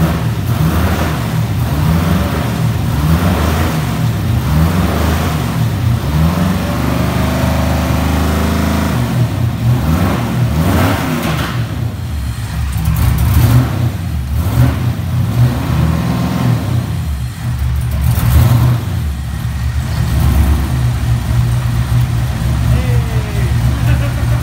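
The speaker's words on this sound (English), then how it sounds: "literally just put a map on the car and started it up to know that it runs" A Mazda RX7 engine fires up and revs, with a loud, continuous engine roar that rises and falls through repeated revving under steady talking.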